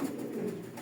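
Foreign-breed pigeons in a breeding loft give a soft, low cooing murmur, close and steady throughout the brief moment with no talk over it.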